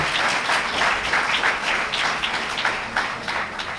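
An audience at a lecture hall breaks into full, continuous applause, many hands clapping at once with a slight rhythmic swell, loud and close for nearly four seconds.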